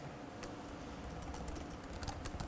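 Typing a command on a computer keyboard, a quiet run of quick, irregular key clicks heard alone at low level.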